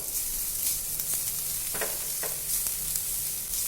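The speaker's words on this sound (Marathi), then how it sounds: "एक दोन मिनटं परतायचं आहे आलं लसणं आले लसूण कांद्याबरोबर" Onion sautéing with ginger-garlic paste in a pan, a steady close sizzle with occasional scrapes of stirring, with no one speaking.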